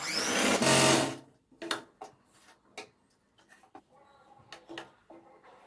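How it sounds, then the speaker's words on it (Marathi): A sewing machine stitches a blouse waistband, starting with a loud sustained whir for about a second, then several short bursts of stitching with quiet pauses between. "एक दुमड टाकायची आणि पुन्हा शिवून घ्यायची"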